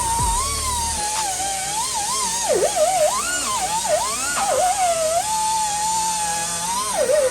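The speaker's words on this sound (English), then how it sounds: "Holes are drilled, plate is in." A power drill bores holes through a trailer's frame to mount a plate, a steady high whine that dips and bends in pitch as the bit bites the metal, loud and close throughout with no talk.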